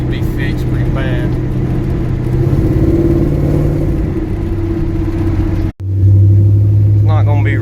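A 1992 Chevrolet Silverado truck with a swapped LS 5.3 V8 and new exhaust idles with a steady low rumble, then briefly cuts out and returns with a louder, deeper drone; a voice talks over it.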